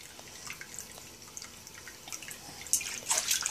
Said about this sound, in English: Can you turn this so you can wash your hands?